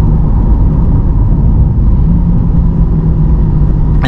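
A 2020 Chevrolet Corvette C8 with the Z51 package, 495 horsepower, pulls hard under acceleration in a loud, steady, close-up engine drone that holds for several seconds.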